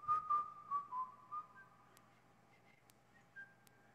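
Faint offstage whistling heard at a distance in a radio drama, a few short tuneful phrases that fade to quieter scattered notes.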